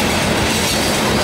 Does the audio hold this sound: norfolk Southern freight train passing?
yes